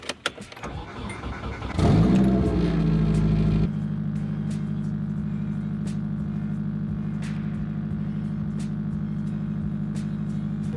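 A turbocharged Nissan 240SX engine running rich turns over on a cold start with a brief loud crank and catch, then settles into a steady, close idle hum.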